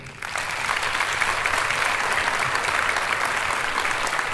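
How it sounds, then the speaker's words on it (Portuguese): A congress hall audience breaks into loud, sustained applause, a steady dense wash of clapping from many hands that holds for several seconds. "Vamos dar uma grande salva de palmas a ele,"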